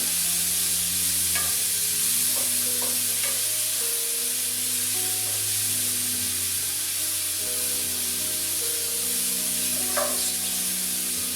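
Flour-dredged chicken fries in a pan and is stirred, giving a steady, close sizzle with occasional scraping clinks as the browned bits are lifted from the bottom; no one speaks.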